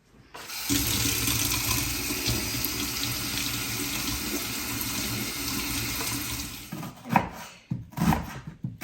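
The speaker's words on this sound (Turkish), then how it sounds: "Şöyle biraz soğuk suda tutuyorum." Cold tap water runs steadily into a kitchen sink as food is soaked for a vegan vegetable bulgur pilaf, a continuous close hiss for most of the clip before it stops and a few clinks and handling sounds follow.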